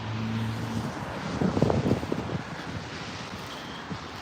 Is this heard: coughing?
no